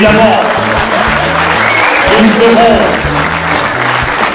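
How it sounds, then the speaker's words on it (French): A crowd applauds a rugby club's team at a squad and kit presentation, broad clapping under a loud announcer's voice and background music with steady low beats. "je vous demande de les applaudir une dernière fois très très fort"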